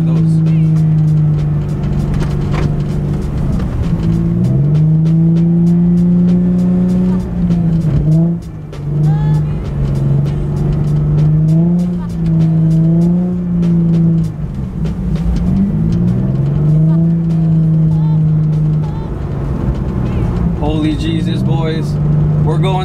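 A Nissan 350Z engine drones steadily with pitch swells as it revs and slides sideways in snow, tires hissing, while a person talks excitedly over it throughout.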